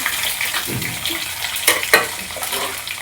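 Cumin, mustard seeds, garlic paste and chillies fry in hot oil, a steady close sizzle with crackling pops and a few sharper spits, moderately loud and with no voices.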